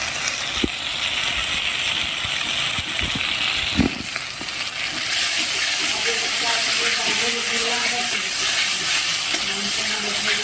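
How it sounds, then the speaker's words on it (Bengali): Spice masala cooks in a pan for a Bengali doi katla fish curry after a splash of water goes in, giving a loud, continuous hiss and sizzle with a few knocks of stirring. "দিয়ে অল্প করে একটু জল দিয়ে দেবো, মশলার জল। দিয়ে আবারও কষে নেব ভালো করে।"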